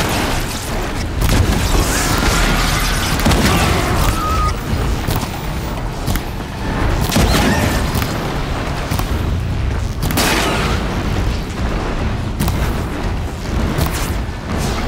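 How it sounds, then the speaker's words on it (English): Explosions from the Horizon Zero Dawn video game, where blaze canisters on a machine's back go off in a rapid, loud string of booming blasts and crashing impacts that lasts the full stretch. "Explosions!"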